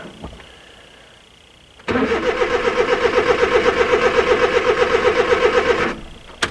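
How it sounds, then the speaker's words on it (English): A car engine cranks for about four seconds with a loud, rapid, even chugging rhythm close by, then stops without catching; quiet stretches sit before and after, with no talking. "it's not wanting to start today either"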